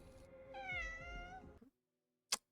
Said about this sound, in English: I am very curious about this cat.